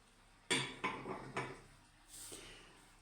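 A porcelain plate, a Ukrainian-made item sold from boxes of flea-market crockery, is picked up and set down, giving three sharp ceramic knocks followed by a brighter clink, close and fairly quiet with no talk.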